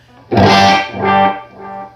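An electric guitar note rings out through an Analog Alien Rumble Seat delay pedal and repeats as fading echoes, each repetition softer than the last, with a distorted tone.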